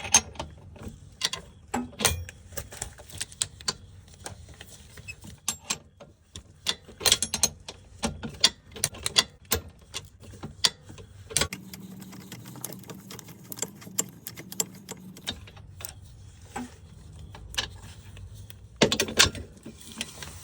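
A ratchet works loose a rear control arm bolt on a Cadillac XTS, giving up-close bursts of rapid clicking with pauses and scattered clanks of tools and metal parts, with no voices.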